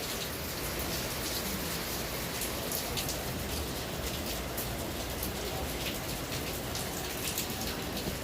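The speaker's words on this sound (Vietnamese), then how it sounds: "bây giờ vẫn mưa" Heavy rain pours steadily over a village during a long downpour, a dense continuous hiss of drops drumming on surfaces at close range, loud and unbroken with no voices.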